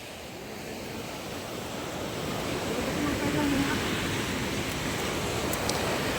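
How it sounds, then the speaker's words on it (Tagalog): Big sea waves rolling in at a fish terminal in Tanza, Cavite during bad weather, a continuous roaring surf wash that swells slightly partway through, with wind noise over it. "Lalaki ng alon, no?"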